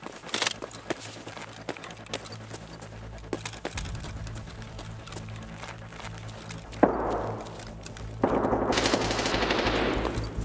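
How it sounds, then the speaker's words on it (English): Automatic gunfire in an Escape from Tarkov firefight, rapid bursts echoing from a distance across an indoor building area, with scattered single shots and a louder burst near the end. "It also sounds like they're busy taking fire from across the sky bridge"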